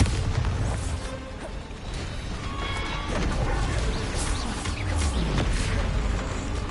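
Bombarda spell blasts in the video game Hogwarts Legacy during a haunted Hogsmeade quest fight: dense, booming explosions and crashing impacts roll continuously with heavy low rumble, loud and close.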